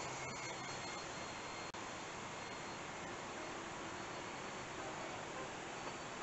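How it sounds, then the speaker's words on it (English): An X-Fly J-65 RC model jet with a 5200mAh battery flying at about 65 mph, its ducted fan a steady whooshing whine held throughout, fairly distant, with one brief sharp click. "Just a beautiful airplane."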